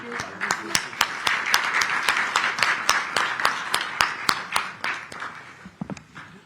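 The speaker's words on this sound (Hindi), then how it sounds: "सभागार तालियों से गूंजता रहना चाहिए।" An auditorium audience claps in a rhythmic, evenly spaced beat that is clear and moderately loud, then thins out near the end.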